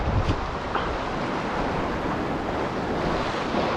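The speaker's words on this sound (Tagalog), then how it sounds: "Malaki yung alon." Big ocean waves wash and roar in a constant broad rush, mixed with heavy wind buffeting against the microphone, during fishing out at sea.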